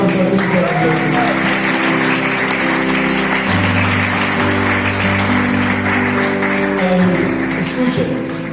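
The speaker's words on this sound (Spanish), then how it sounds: "Den un fuerte aplauso al Cristo de la gloria." Applause from a church congregation during a Spanish-language sermon, a dense continuous roar of clapping from a large crowd with musical tones and voices mixed in.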